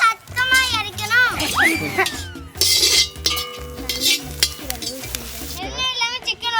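Coriander, green chilies and curry leaves dry-roasting in a pan during outdoor village cooking, with a soft sizzle and stirring scrapes heard beneath people talking.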